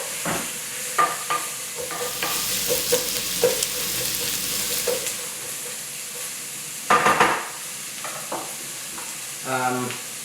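Onion and bay leaves sizzle steadily in a pan, a close frying hiss broken by stirring scrapes and utensil clinks, with a short voice near the end.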